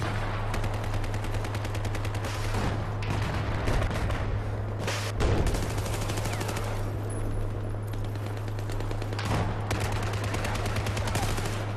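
Submachine gun fire in Battlefield 4 video game, rapid sustained automatic bursts with a few heavier booms, loud and continuous under a steady low hum.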